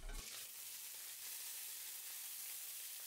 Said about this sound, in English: Pan frying the chicken for 7 minutes, skin side facing down.